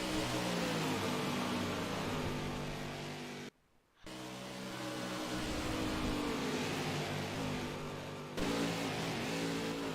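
Race cars in a Las Vegas oval racing video game stream past with a continuous buzzing engine drone rising in pitch, broken by a brief silent gap and a sudden cut to another car's engine.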